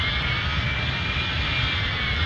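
Jet engines of a Boeing MD-90 taxiing in the Airline Commander game give a steady, even roar with a thin high whine on top, constant and fairly loud with no talking.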